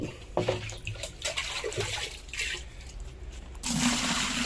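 Water splashes and gushes steadily for a few seconds, growing fuller and louder near the end, like water poured or running into a container, while preparing to plaster a house with sand.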